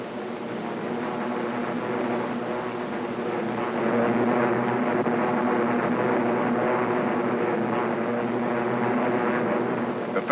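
Japanese propeller-driven warplanes fly toward Pearl Harbor in 1941, a loud, continuous engine drone that swells slightly midway and holds steady without talk.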